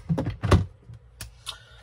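A drawer being pushed shut at close range: a couple of muffled wooden thumps, the loudest about half a second in, then a softer knock and a light rattle. No one speaks.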